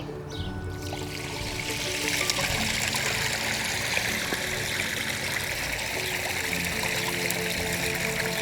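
Water splashes and trickles steadily from a small backyard pond waterfall, a continuous close hiss of flowing water with no voices.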